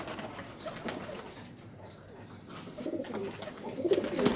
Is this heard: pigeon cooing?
yes